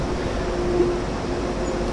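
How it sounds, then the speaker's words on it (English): Heavy freight train in the Train Sim World game on the Spessart Ramp, a steady low rumble of rolling wagons with a faint sustained whine, loud and continuous. "I hope the AI train begins to slow down and stop at the stopping point"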